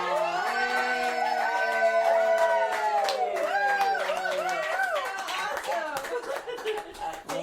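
A lively cruise ship audience clapping at sea, a steady patter of applause from a sizable crowd, with a person talking over it and some chatter mixed in, tapering slightly toward the end.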